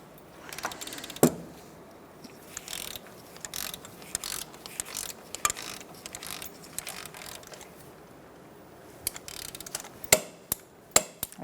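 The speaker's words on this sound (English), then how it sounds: "We're going to tighten this to 40 foot-pounds." A ratchet wrench clicks as it snugs the CV axle nut on a 2004-2009 Mazda 3. The short bursts of ratcheting and metallic clinks are scattered across the clip, with sharper taps toward the end.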